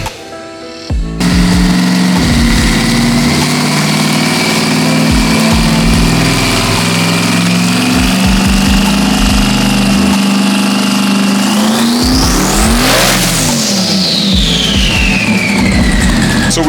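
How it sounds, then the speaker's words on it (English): A twin-turbo Dodge Demon engine idles loudly and close, then revs hard around twelve seconds, its pitch sweeping sharply upward as the turbos spool before dropping back, with a continuous turbo whine above the engine. "this thing spooled up way quicker than I thought"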